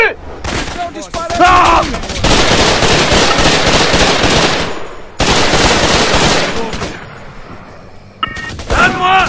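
Dense, loud gunfire from the Raven Squad video game, with long sustained bursts of rapid automatic fire broken by brief pauses, and a short shout near the start.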